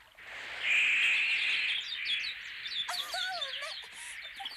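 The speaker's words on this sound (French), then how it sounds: "Les oiseaux s'en vont." Birds chirp in the animated film La Légende de Blanche Neige: a bright, sustained twittering gives way to quick, warbling up-and-down calls, fairly clear against a soft background.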